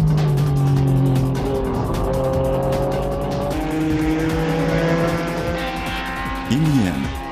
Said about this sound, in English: Following right behind was the NSX-based racing car, the ADAC GT.